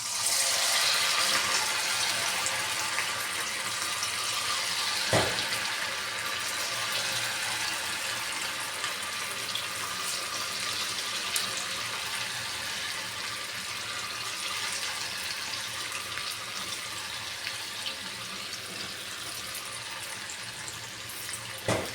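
Cauliflower pieces fry in hot oil, a steady, dense hiss and crackle of sizzling that continues evenly throughout at moderate loudness.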